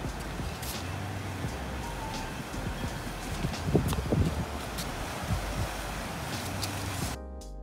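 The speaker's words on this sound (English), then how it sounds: "it was really windy outside, I'm sure you could hear it." Steady blustery wind roars outdoors, with rustling gusts swelling in the middle before it cuts off abruptly near the end.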